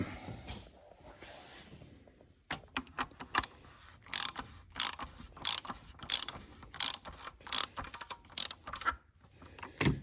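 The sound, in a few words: wrench ratchet tightening Jeep V-6 oil filter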